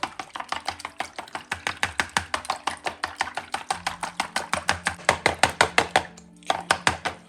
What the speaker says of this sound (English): Now we use a chopstick. You can use a fork to mix the egg.